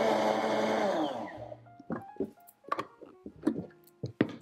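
A blender grinds dry ingredients for a vegan thin mint cake into a fairly fine flour, whirring loudly for just over a second before cutting off, followed by scattered clicks and clunks.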